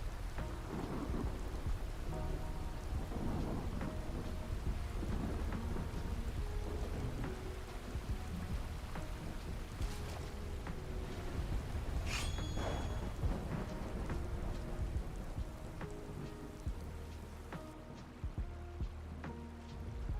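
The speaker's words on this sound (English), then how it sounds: "Look at the raindrops." Steady rain and rolling thunder in Skyrim with the LoreRim modlist, a constant wash of falling rain with a few deeper rumbles rising through it, moderately loud, with no voices over it.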